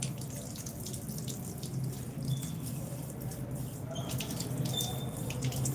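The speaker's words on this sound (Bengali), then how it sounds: "চলো উজুর ট্যাপটা খোলো আস্তে করে" A water tap runs for wudu as hands are rinsed beneath it, a steady close splashing flow that continues evenly throughout with no voices.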